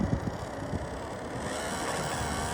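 A JXC 1/24 scale Mitsubishi Delica 4WD RC truck on road tyres crawls over terrain. Its small motor gives a steady, close whirring drone with faint scrabbling, and no one talks.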